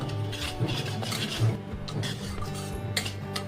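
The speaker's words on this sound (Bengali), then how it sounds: "মশলাটাকে ততক্ষণ কষিয়ে নিতে হবে যতক্ষণ না তেলটা আলাদা হয়ে ওপরে ভেসে উঠছে" Spice masala with turmeric is stirred and sautéed in hot oil for Afghani egg curry, giving a close, steady rasping scrape of a spoon across the pan over a soft sizzle.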